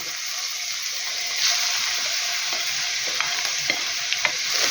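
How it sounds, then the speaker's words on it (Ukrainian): Onion and carrot fry in a pan, a steady bright sizzle broken by occasional scrapes and clinks of stirring, loud and close with no voices. "Цибуля трошки пом'якла і буду додавати сюди морку."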